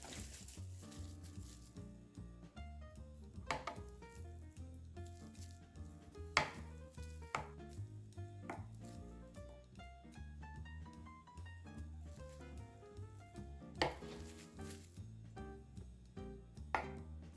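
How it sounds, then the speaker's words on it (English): A knife slicing through a raw beet on a board gives a steady run of quiet, crisp cuts, with a few sharper knocks standing out. No one speaks. "And time to slice this beet."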